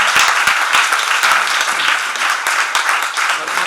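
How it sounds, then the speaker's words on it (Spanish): A crowd at a public event gives a loud, sustained round of applause, many hands clapping close and dense without a break. "pido un fuerte aplauso"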